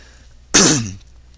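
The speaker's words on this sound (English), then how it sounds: "Sorry if I'm coughing and all that" A single harsh cough or throat-clearing burst close to the microphone, about half a second long, then quiet.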